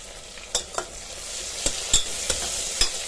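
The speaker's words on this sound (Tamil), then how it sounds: "தக்காளி சேர்த்து நல்லா வதக்கலாம்." Tomatoes being sautéed in a pan for basmati rice biryani: a steady low sizzle with several sharp scraping and stirring clacks of a utensil against the pan, moderately close, no talking.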